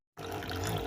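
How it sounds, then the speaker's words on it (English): Water pours steadily into a coffee maker's reservoir, a continuous close trickling and splashing that starts abruptly and runs without a break. "The water is filling up."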